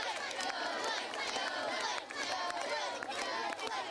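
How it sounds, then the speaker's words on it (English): Elementary school classmates on a playground make a dense, steady wash of children's shouting, chatter and cheering that stays loud and busy throughout, with a reporter's voice running over it. "today his classmates stand by cheering him on as he takes his first ride on a swing"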